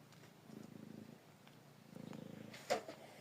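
Soft, close cat purring in slow rhythmic pulses, pausing briefly between breaths, with a small sharp click near the end.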